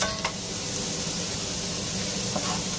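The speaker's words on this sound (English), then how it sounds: "Saute this for 4 to 6 minutes." Vegetables sauteing in a skillet for a vegan Italian pasta dinner give a steady, close sizzle and hiss throughout, with a couple of faint stirring clicks.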